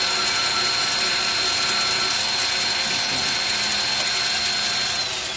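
A lathe grinds steadily as it turns and cuts a cannon barrel, a continuous loud metallic machining drone with a faint thin whine, close and unbroken, with no voices.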